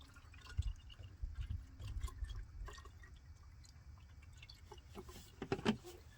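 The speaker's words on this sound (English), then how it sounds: "So you pour it in there, pop that out." Universal antifreeze coolant is poured into the cooling system of a 2011 Chrysler 300 Hemi, faint gurgling and dripping with scattered small splashes and light clatter, close but quiet.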